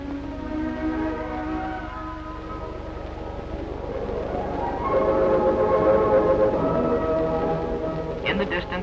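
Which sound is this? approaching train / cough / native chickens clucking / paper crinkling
approaching train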